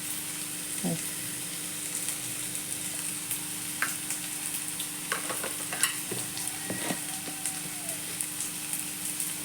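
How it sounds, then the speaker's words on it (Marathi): Red pumpkin sautéing with coarsely crushed green chili paste in a pan: a faint, low sizzle under soft scraping stir strokes and a few light clinks of the spatula. "मीठ घालते गॅस बारीक करून चांगली परतू द्यायची भाजी"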